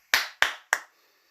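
A person claps three times at a slow, even pace to imitate a wrestling referee's three count. The claps are sharp, close and loud, each ringing out briefly before fading to silence.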